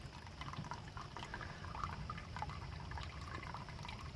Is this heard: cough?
no